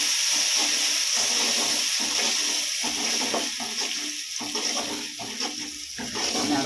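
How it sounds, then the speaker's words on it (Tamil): Ground tomato puree hits hot oil for garlic kuzhambu, a moderate bubbling sizzle with spattering pops and uneven bursts that ease and swell across the stretch. "மிக்சியில் அரைச்சி வச்சுருக்குறோம் தக்காளி, அதை தான் ஊற்ற போகிறோம்."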